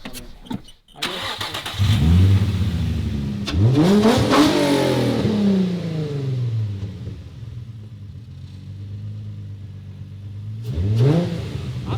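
A Nissan 350Z engine revs up repeatedly, rising and falling in pitch with a deep rumble, close by, with a short idle between pushes.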